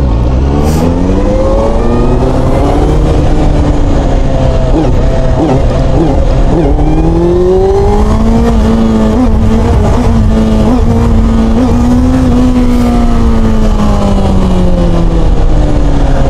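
A VOGE RR660 motorcycle engine revs hard under throttle, its pitch climbing and falling through gears with a loud, continuous roar and wind rush from an onboard position.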